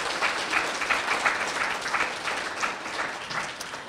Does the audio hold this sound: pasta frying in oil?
no